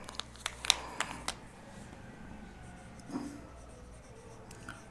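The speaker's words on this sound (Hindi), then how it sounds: "तो यहाँ पर लिख लेते हैं" Chalk or marker scratches and taps on a board during a biology lecture, a quick cluster of short strokes at first, then quieter scraping against a faint room hum.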